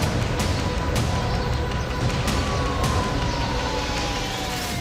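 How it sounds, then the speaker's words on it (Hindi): Sirens wail across a city after a drone attack, a steady loud wash of emergency sirens with faint rising and falling tones and occasional sharp knocks, no voices. "पूरे शहर में सायरन बजने लगे"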